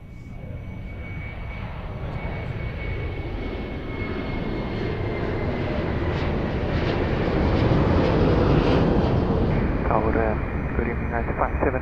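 A Ryanair jet airliner takes off at Lisbon Airport, a heavy distant engine roar that swells steadily louder, overlaid by air traffic control radio voices.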